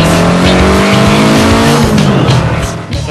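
A Datsun 240Z fitted with a Japanese SR20DET turbo engine revs loudly and continuously close by, a harsh steady engine roar with rising and falling pitch and a hint of tire noise.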